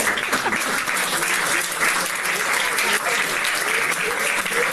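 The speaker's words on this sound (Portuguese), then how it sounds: "Aplauda Jesus." A church congregation applauds steadily throughout, dense sustained clapping filling the room with some voices faintly mixed in beneath.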